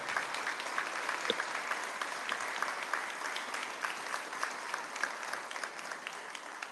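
Audience applause fills a room at a South Florida athletic awards ceremony, a steady dense wash of clapping hands throughout, moderately loud with no talk over it.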